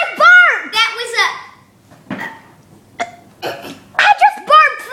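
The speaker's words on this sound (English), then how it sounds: "I just burped there." Burps from a burping contest, several short throaty eructations close to the microphone, mixed with excited child-like voices talking and laughing between them.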